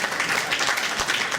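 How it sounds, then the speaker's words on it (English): An audience at a Mount Royal federal election campaign event claps in steady, dense applause that sounds close and fairly loud, with no one speaking over it. "Let's give him a round of applause."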